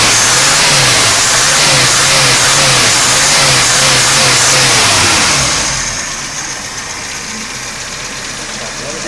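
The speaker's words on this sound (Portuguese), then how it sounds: "E aí, Maurino, melhorou o carro?" Car engine revving after a Weber 460 carburetor rebuild, loud and close, with rising and falling revs for about six seconds before settling to a quieter steady idle.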